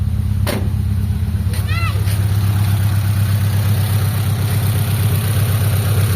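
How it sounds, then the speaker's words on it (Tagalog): A car engine with a misfire runs at a steady idle, a close, loud, uneven low throb, with a short chirp partway through. "ito yung andar ng makina niya, palyado"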